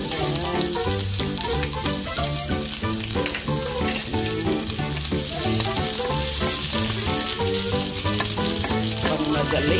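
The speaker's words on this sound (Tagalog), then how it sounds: "Lagyan natin ang ating sibuyas at bawang sa ating kawali na nasunog na" Onion and garlic hit hot oil in a pan and sizzle loudly and continuously, with a dense crackling hiss, while rhythmic background music plays underneath.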